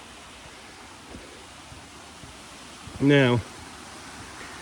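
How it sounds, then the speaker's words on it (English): A Highland burn flows steadily nearby, a broad continuous rush of stream water that fills the whole scene, with someone briefly speaking over it partway through. "I don't know how well you'll be able to hear me over the water sounds"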